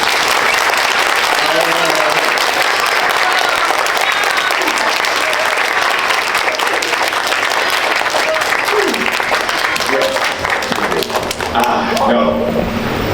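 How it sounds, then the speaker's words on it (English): A graduation audience at CMI Preparatory School claps loudly and continuously for about thirteen seconds, a dense, close wall of applause with voices mixed in that thins out briefly near the end. "give me the biggest clap you've ever had"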